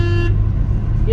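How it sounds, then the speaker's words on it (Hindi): A short, thin horn toot from a Hyundai Santro sounds close by, brief and tinny, then cuts off, with a low engine rumble underneath. "जैसे कि आप देख सकते हैं इसका हॉर्न बहुत ही लो क्वालिटी का है।"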